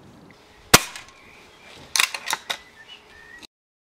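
A Gamo Expomatic 2000 air rifle fires 8.2 grain BSA pellets over a chronograph, with one sharp, close crack followed by a quick cluster of metallic clicks and clacks from the action.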